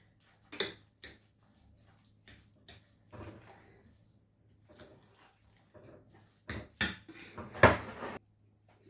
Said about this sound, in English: now we mix everything together